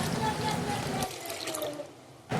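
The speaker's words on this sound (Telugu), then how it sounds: "2-3 టైమ్స్ వాటర్తో మంచిగా కడుక్కున్న తర్వాత వాటర్ వేసి పక్కకు పెట్టుకోవాలి." Water runs and splashes as soaked poha (flattened rice) and grains are rinsed for ragi idli batter. The sound is steady and close, then eases off after about a second and a strong splash comes at the very end.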